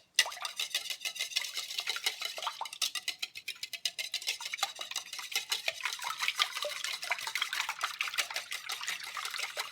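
A whisk beats wet doughnut batter ingredients, including milk curdled with vinegar, in a bowl with rapid, continuous clinking and sloshing. The strokes are fast and irregular, fairly close and moderately quiet, and there is no talk.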